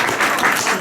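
A burst of audience applause at a King's Day gathering in Vancouver, a dense wash of many hands clapping, loud and fairly close, lasting only a moment.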